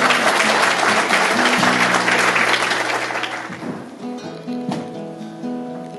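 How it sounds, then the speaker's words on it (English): Applause from an audience at a Defying Dementia Day talk session, full and loud at first, then gradually tapering off with a few lingering claps. "can you give a round of applause?"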